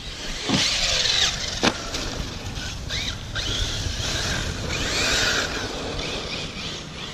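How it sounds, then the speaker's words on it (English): A Hobao Hyper VSE RC car drives and takes ramp jumps, its electric motor whining and rising in pitch through several bursts, with tire squeals and knocks from landings, close and fairly loud. "Alright, enough messing around. Let's take those jumps."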